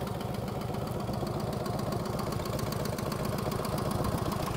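A 1949 Harley-Davidson Hydra Glide engine idles steadily with an even, throbbing pulse and a slight knocking rhythm, continuous and close, no voices.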